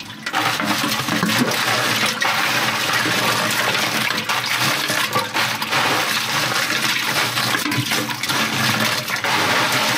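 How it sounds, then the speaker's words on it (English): Water gushes steadily out of an ice tank as it is drained, a continuous rushing, splashing flow that stays loud and close for the whole stretch with no voices. "Drain this water out, put the ice in, and we're ready to get started."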